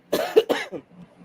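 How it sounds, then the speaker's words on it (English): A person coughs several times in quick succession, close and fairly loud, with a short throat-clearing tail at the end. "I just been coughing"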